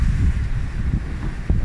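Water splashes and rushes against a sailboat at sea, heard as a continuous low wash mixed with wind buffeting the microphone, with a slightly stronger splash near the end.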